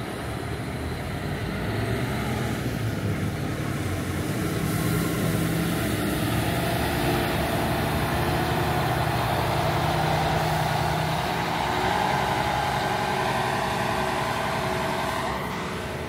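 A Marcopolo O500RS Euro 6 bus idles at the Curitiba bus station, a steady low engine rumble running continuously with ambient station noise and no speech.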